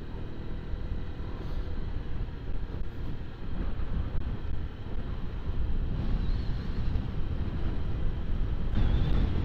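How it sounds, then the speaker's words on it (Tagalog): Steady wind noise buffeting outdoors on the mountain zigzag road between Bongabon and Baler, Nueva Ecija–Aurora, with a light drizzle in cool air; a continuous low rumble that holds at a moderate level and swells slightly toward the end. "Yung hangin kasi may kasamang konting ambon"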